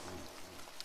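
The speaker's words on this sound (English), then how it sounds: "Listen to the rain. It is just water now. Gentle water. Falling on a safe roof." Gentle rain falls steadily on a roof as a soft, continuous patter, quiet and close, with no voices.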